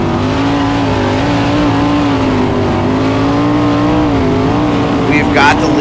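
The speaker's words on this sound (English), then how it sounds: "The new motor is running so well, you can hear it." Race car with a new motor at Lawrenceburg Speedway, engine droning loud and close with steady harmonic tone that wavers slightly as revs rise and fall, ending in a brief higher burst.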